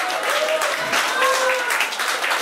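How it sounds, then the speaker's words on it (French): A crowd applauds steadily, with many hands clapping at once and a few voices mixed in. "s'il vous plaît, vous pouvez les applaudir."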